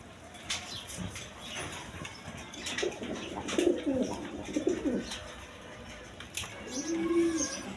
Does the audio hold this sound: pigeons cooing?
yes